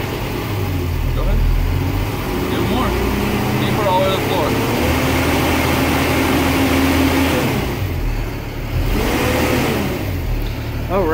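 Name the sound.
car engine started and throttle revved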